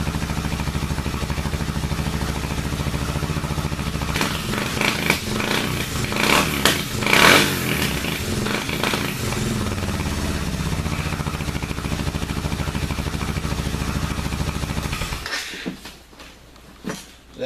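A motorcycle fitted with a Dominator exhaust, its dB killer still installed, idles loudly nearby, then surges through a couple of sharp revs before settling back and cutting off near the end.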